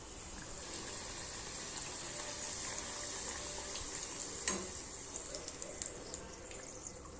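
Puri dough slid into heated oil on a gas stove set to low, giving a soft steady sizzle with scattered faint pops and crackles throughout.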